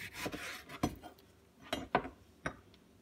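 A knife cuts the ends off a whole lemon on a board, making a few soft, separate thuds and scraping strokes, quiet and close.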